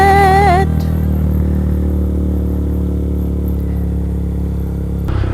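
Honda Grom motorcycle being ridden, its small engine droning steadily and close at cruising speed with a faint rattle, after a brief burst of music at the start.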